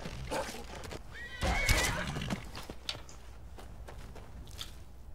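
A horse in Skyrim gives a sharp, rising whinny over dull hoof thuds and scuffs, close and moderately loud, with scattered clicks and a few fainter snorts afterward.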